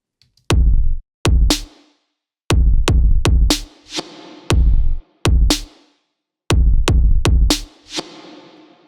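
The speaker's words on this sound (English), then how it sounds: "So if we add a kick drum in here, let's hear how that sounds." A sparse programmed drum beat alternates punchy kick drum hits with snares that ring out in long, bright plate-reverb tails, playing a repeating rhythmic pattern alone with no voices.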